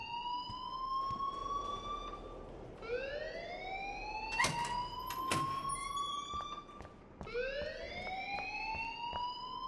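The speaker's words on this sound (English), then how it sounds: "please turn off that alarm since that's your job." Fire alarm in the video game Life Is Strange, a loud electronic siren sweeping upward again and again in repeated rising wails, with sharp clicks and beeps mixed in.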